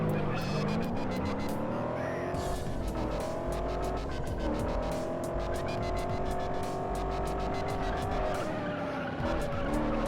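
A Camaro race car in a racing video game roars through rising and falling revs while tires squeal and skid loudly, with sharp gear-change breaks and continuous engine drone.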